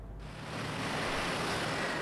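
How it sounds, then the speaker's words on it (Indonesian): Strong wind in Bali roars as a steady, dense broadband rush that swells within the first half second and then holds loud and continuous, much like surf. "angin kencang dengan kecepatan mencapai 40 km akan menerjang Pulau Bali"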